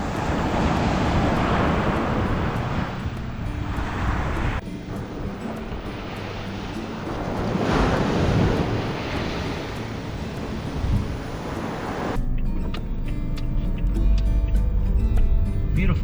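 Surf washes steadily onto the sand at Navarre Beach on a morning shelling walk, a continuous loud roar of breaking waves mixed with wind buffeting the microphone.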